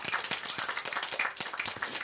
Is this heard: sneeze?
no